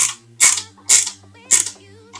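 Three sharp ratcheting clicks from a small screwdriver turn the last screw into a Fanhome Toyota Supra MK4 scale model, evenly spaced, close and crisp with a faint mechanical creak between them.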